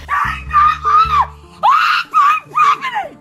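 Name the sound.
woman screaming in a played video recording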